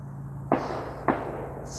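Two sharp distant gunshots from hunters, about half a second apart, each a quick crack with a short echoing tail over quiet outdoor background.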